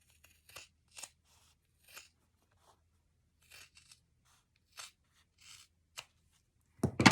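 Scissors cut cotton fabric for a patchwork Christmas tree ornament, a series of quiet, crisp snips at irregular intervals with near-silent pauses between, ending in a louder rustle of handled fabric.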